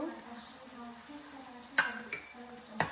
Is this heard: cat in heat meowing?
no